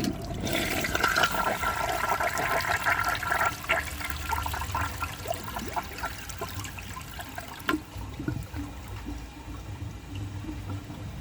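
A 1983 Eljer Hygeian toilet flushes a dish towel, a strong rushing swirl of water that runs steadily for about eleven seconds, with a brief knock near the end and a lingering trickle as the bowl refills.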